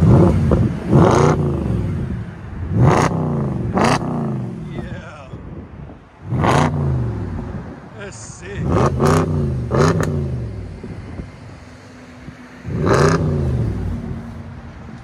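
A 2011 Audi S5 with a 4.2-liter V8 and a muffler delete revs hard in repeated loud, close bursts, each rising and falling, with short idle gaps between them and people talking over it.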